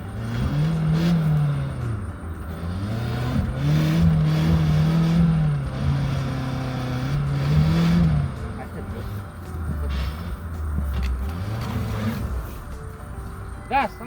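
Suzuki Ertiga or XL7 engine revving on an off-road course, a steady engine drone rising and falling over several throttle pushes, with people talking over it throughout.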